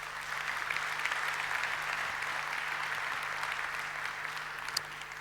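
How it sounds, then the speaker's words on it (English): A conference audience applauds a speaker, a dense, even wash of many hands clapping somewhat distantly, sustained throughout at moderate volume with no speech. "May we give Mr. Solkomede a round of applause."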